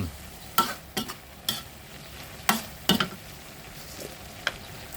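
A spatula scrapes and stirs pork and long bean stir-fry in a hot pan in a handful of sharp, irregular strokes over a low background sizzle, with no voices.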